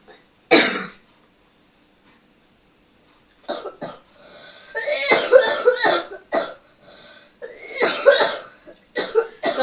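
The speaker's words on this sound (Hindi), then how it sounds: "खांसी इतनी ज्यादा है" A sick child with fever coughing in several harsh bursts: one early cough, a pause, then clustered repeated coughs and throat-clearing close to the microphone.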